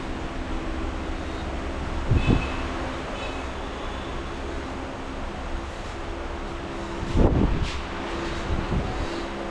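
Steady low rumble of a nearly empty Guruvayur to Thrissur passenger train riding along in Kerala, with wind noise over the microphone and two brief louder rattling bursts.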